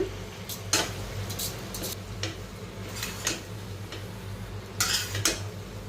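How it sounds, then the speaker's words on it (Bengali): Spoon stirring pasta into minced meat in a pan, soft scraping clinks and taps scattered irregularly over a low steady background hum, fairly quiet and close. "পাস্তাটা ভালো মতো মিক্স করা লাগবে কিমার সাথে"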